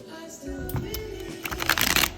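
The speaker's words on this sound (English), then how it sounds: "When I'm shuffling like this, anything can happen" Tarot cards being shuffled by hand, close and fairly loud, a run of crisp riffling flutters that thickens into rapid papery bursts toward the end while faint background music plays.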